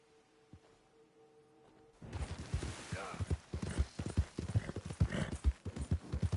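Horse hooves clip-clop in Red Dead, starting after a quiet opening and then thudding in a quick, loud, close rhythm with a brief snort.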